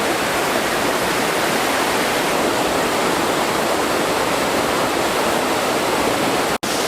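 A rushing creek in Alaska gives off a constant, dense roar of flowing water, close and even in loudness and unbroken almost to the end, with no voices.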